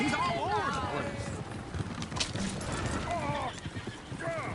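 Horses in the Red Dead Redemption 2 video game whinny several times over rapid clip-clopping hooves, with someone talking loudly over the commotion.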